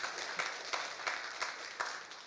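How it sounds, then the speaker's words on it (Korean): A church congregation applauds during a Sunday worship service, steady moderate clapping with a few louder swells, no voices over it. "박수 한번 더 하면 좋을 것 같아요."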